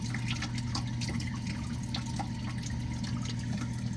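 Water runs steadily out of a tank overflow after a valve is opened, a continuous close splashing flow with light dripping and trickling over a constant low hum.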